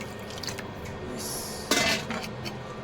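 A metal lid is set down over a pot of potatoes and water, giving one bright clank with a brief ring after some soft background kitchen clatter.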